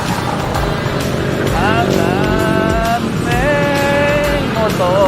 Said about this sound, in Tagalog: daming motor.